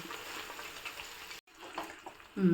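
Amaranth leaves with stems fry in a pan, giving a steady soft sizzle with faint stirring scrapes, a brief gap, then a sharper clank near the end.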